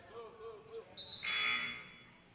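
A loud electronic basketball game buzzer blares for about a second over crowd noise, cutting in after a brief stretch of talking.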